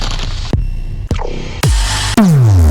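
A series of abrupt, punchy processed hits, the last a deep booming impact with a falling low tail; loud and synthetic, no voices.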